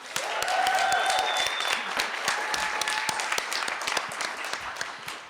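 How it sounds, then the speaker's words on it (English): An audience gives a round of applause for jazz musicians after a talk on artists and censorship, a full burst of clapping with distinct individual claps that gradually thins toward the end. "Please join me in thanking the amazing Alphonso Horne and the incredible Michael King with another round of applause"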